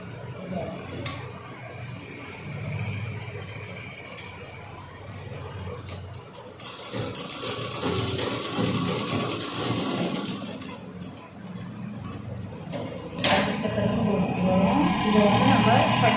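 A sewing machine stitches folded chudidar fabric in bursts, a rapid mechanical whirring that starts and stops several times, close and moderately loud, with someone talking between and over the runs.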